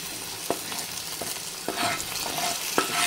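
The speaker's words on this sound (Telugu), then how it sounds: "ఇప్పుడు ఇందులో మనం టమాటా వేసుకుందాము." Chopped tomatoes are tipped onto onions and chillies frying in a pan and stirred, with a continuous sizzle broken by several sharp scrapes and clinks of the spoon against the pan.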